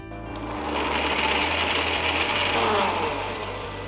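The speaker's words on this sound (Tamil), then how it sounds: "பால், பிஸ்தா, குங்குமப்பூ எல்லாத்தையும் ஒரு மிக்சர் ஜாருக்கு மாற்றி ஸ்மூத்தான பேஸ்ட்டாக அரைச்சி" A mixer grinder jar whirs loudly and steadily as it grinds pistachios, milk and saffron into a paste, its pitch rising a little and then easing off near the end.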